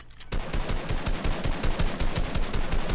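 Gunfire in the video game Fortnite comes in rapid, evenly spaced automatic bursts, loud and close, continuing without pause from just after the start.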